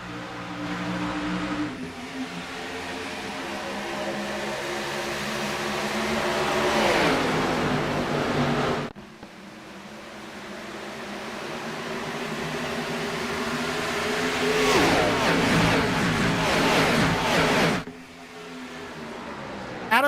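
NASCAR race cars accelerating at a race start at Chicagoland, a loud continuous roar that swells over several seconds, breaks off near nine seconds, then builds again with rising engine whine before another sharp cut.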